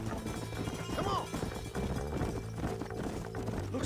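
Horses galloping in Red Dead Redemption, with rapid, loud, close hoofbeats in a continuous drumming rhythm and a faint whinny partway through.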